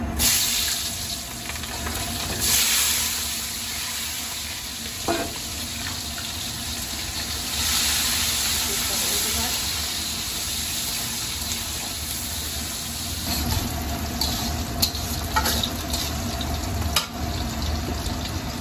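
Thickly cut onions frying in a pan with cardamom and cinnamon for a goat meat curry, a steady broadband hiss and crackle running throughout at moderate level, with a few brief clinks and stirring knocks.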